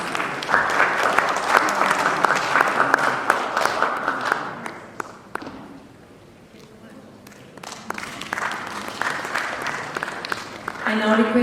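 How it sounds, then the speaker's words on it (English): An audience applauds panelists at a publishing conference, a sustained round of clapping that dips briefly to near quiet in the middle before swelling again. "Have a great round of applause,"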